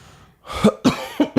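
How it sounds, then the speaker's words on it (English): A short burst of several close, sharp coughs in quick succession, loud and dry, with no talking. "There's the coughing."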